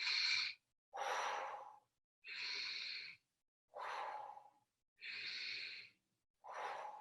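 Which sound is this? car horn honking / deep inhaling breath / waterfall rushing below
deep inhaling breath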